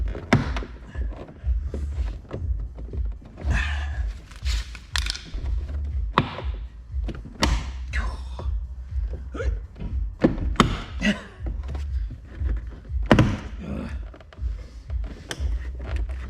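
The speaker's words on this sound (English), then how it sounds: "Right, so we've managed to get our door card undone." Plastic clips crack and creak as a tight Audi door card is pried off the door, a series of close, irregular snaps, thunks and rattles spread across the whole stretch without talk.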